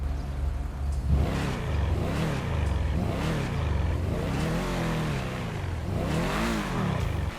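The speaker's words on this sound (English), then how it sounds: "you are listening to the car. And this car sounds really nice and unique." Car engine revving in GTA Online, a loud, continuous engine note that rises and falls through repeated revs and gear changes, with no talk over it.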